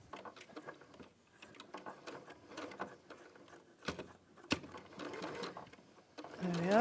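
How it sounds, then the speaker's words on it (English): A sewing machine stitches fabric with a rhythmic mechanical whirring and clatter that runs in bursts, while people talk over it, and a louder burst comes at the end. "So I'll sew that one."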